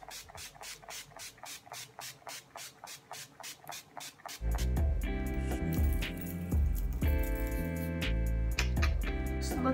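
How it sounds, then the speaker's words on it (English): A series of short bursts of Urban Decay All Nighter makeup setting spray hiss in quick succession onto a face, then louder rustling and rubbing sounds take over, close to the microphone. "Now we're gonna spray our face with Urban Decay All Nighter Makeup Setting Spray"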